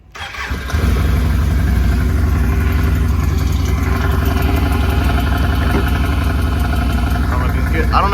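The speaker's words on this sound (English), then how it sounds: "let me crank it up so y'all can hear the clutches on the end" A snorkeled Can-Am Outlander ATV engine cranks and catches within the first second, then runs steadily loud and close with a throbbing, even drone from the engine, clutches and belt box.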